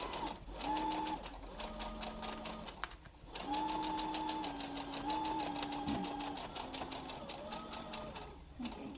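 A sewing machine stitches a three-layer cloth face mask in rapid, even runs, pausing briefly a couple of times before resuming its steady whirring, with faint tonal hums underneath.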